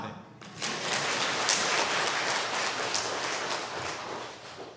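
A church congregation claps hands together during a Taiwanese-language Sunday service, a dense, sustained patter of many hands that starts after a brief pause and carries on steadily.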